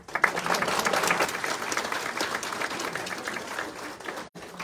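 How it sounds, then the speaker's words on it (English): Studio audience applause during a televised fashion segment featuring Canadian-made clothing, a dense sustained clapping that holds steady for several seconds before cutting off abruptly near the end. "A round of applause."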